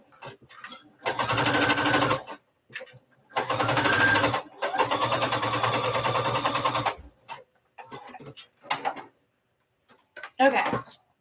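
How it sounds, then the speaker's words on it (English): A sewing machine stitches in three loud, steady runs of a few seconds each with short pauses between, followed by scattered handling noises and a brief voice. "It's so weird to sit down and sew."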